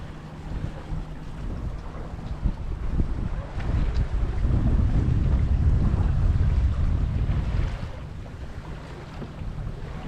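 Wind rushes over the microphone on a sailboat under way, a steady low roar that swells louder midway, with water sloshing against the hull beneath it and no voices.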